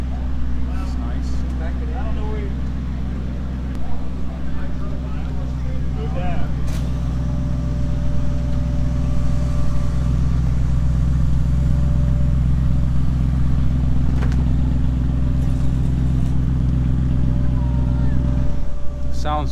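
An Audi RS6 wagon idling loudly nearby at a car meet, its steady deep engine drone running throughout while people talk over it.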